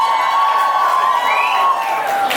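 A live podcast audience cheers and whoops together in a loud, sustained crowd roar, with a few shrill voices rising above the mass.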